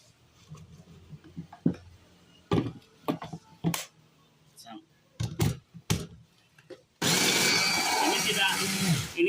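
A home digital food processor fitted with its mixing attachment starts up and runs with a steady, loud whir after several clicks and clatters of parts being fitted, with someone talking beforehand.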